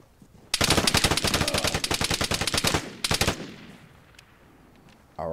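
Rapid automatic gunfire in a video game gunfight, a loud sustained burst of fast shots for over two seconds, a brief pause, then a shorter burst before fading into quiet.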